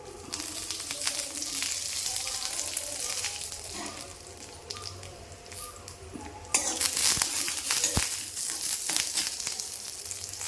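Curry leaves dropped into hot oil while tempering a chutney, a soft steady sizzle with crackles and a sharper burst of spattering midway.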